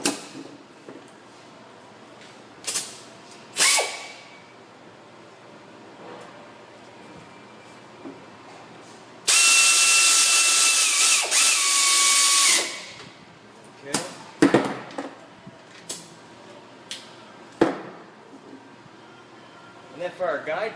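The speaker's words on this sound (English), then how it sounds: "We're going to get our line bolted back in over here, our actual brake hose, our 10mm bolt." Wrench work on the 10mm bolt of a front brake hose on a 2007-2014 Ford Edge or Lincoln MKX, heard as scattered metallic clicks and clanks around a burst of loud power-tool whine, with a voice talking in the background.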